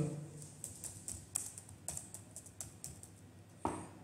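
Card details go in on a computer keyboard as quick, light key taps in uneven bursts, fairly faint and close, with one louder keystroke near the end.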